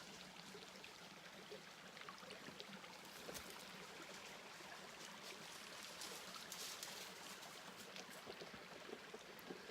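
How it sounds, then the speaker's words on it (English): Running creek water in the woods, a steady faint rushing and trickling flow heard at a distance, continuous throughout with no voices. "I don't know if you can hear the water running in the background"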